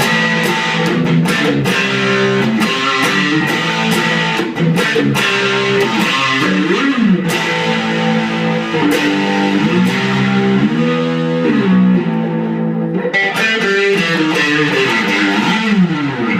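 Loud, saturated electric guitar played through a Hardwire Valve Distortion pedal, chords and bending notes with a fizzy, buzzing top end, alone.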